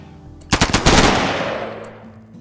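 Gunfire in the RimWorld video game comes as a quick rattling volley of several close shots, the echo and rumble lingering and fading over the next second or so.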